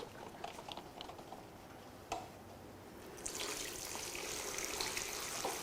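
Leftover engine oil pours out of an upturned Toyota 3RZ engine core, starting with scattered drips and splashes, then after a sharp knock it becomes a steady, fairly loud liquid gush that continues to the end.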